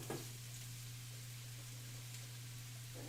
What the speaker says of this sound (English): the sizzle in the pan that we're always looking for